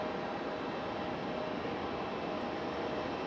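A Boeing 757 airliner roars steadily on the runway at Raleigh-Durham International Airport, a broad, continuous engine rush heard from a distance with no talk.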